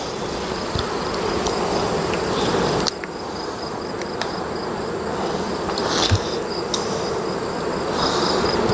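Honeybees buzz steadily around an open hive during an inspection, a dense, continuous drone close by with no talking over it.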